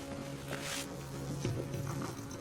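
A strange electronic buzzing signal drifts down from an upstairs bedroom, a steady droning hum with bright shimmering bursts, heard from a distance with no talk over it.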